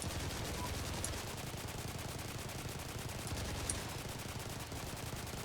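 A 7.62mm machine gun fires in the Clear Skies flight game, a fast continuous rattle of evenly spaced rounds running the whole stretch at moderate level beneath steady engine drone.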